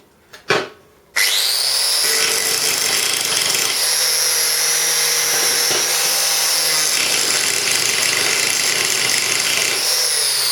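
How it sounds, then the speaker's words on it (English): An angle grinder cleans up a steel plate's rough edge after a brief knock, then runs steadily with a loud, bright, continuous whine and grinding hiss that wavers slightly as it works the metal. "So I'll just whack this off with the grinder."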